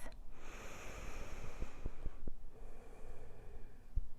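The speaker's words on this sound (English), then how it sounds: "Take a breath" A single deep breath taken during a Warrior 3 yoga practice, a soft, airy rush that swells and fades over a few seconds, with a few faint clicks and light background noise.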